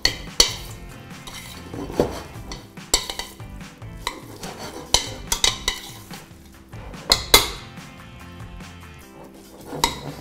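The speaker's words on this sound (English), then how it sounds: "I'm going to give it plenty of our wild garlic pesto and just mix it in while it's nice and fresh and warm" Linguine tossed with wild garlic pesto in a pan: repeated scrapes and metallic clinks of a utensil against the pan, irregular and close, with no voices.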